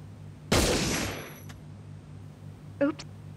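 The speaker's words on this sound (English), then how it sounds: "Shoot the coffee cup." A gunshot in the LifeLine voice-action adventure game, one sharp loud crack with a long ringing decay, followed by a brief metallic clink a couple of seconds later, against a quiet background hum.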